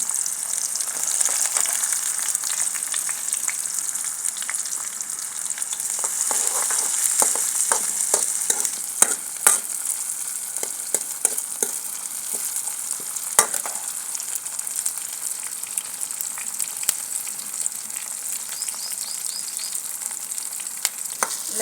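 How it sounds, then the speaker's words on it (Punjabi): Onion and green chilli frying in a pan for a Punjabi kadhi pakoda in a village kitchen, a steady close sizzle with scattered spatters and the scrape of stirring, and no talking. "ਹੁਣ ਆਪਾਂ ਗੰਡਾ ਮਿਰਚ ਪਾਵਾਂਗੇ"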